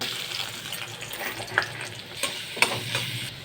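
Onions sizzling in hot oil and ghee, a dense close frying hiss with a couple of sharp spatula scrapes against the pan and no talk.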